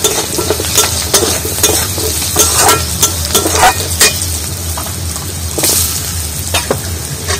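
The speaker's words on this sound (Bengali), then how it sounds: "আর এর মধ্যে একটা কেটে রাখা আলু কুচি কুচি করে সেটা দিয়ে দিচ্ছি তেলের মধ্যে" Chopped potato pieces frying in hot oil, a loud continuous sizzle broken by repeated scraping stirs, close up and without talk.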